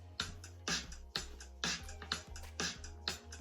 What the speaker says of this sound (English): The drum loop I use is called the Basic Vintage Break, and it sounds like this.